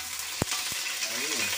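Hot oil sizzles in a pan with a steady hiss and a couple of sharp clanks near the start, plus a brief faint voice-like sound.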